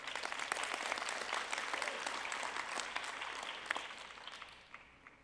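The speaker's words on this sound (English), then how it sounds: "we want to welcome him and give him a round of applause" An audience at a resident award and graduation ceremony claps in steady, sustained applause that swells, then gradually thins and fades toward the end.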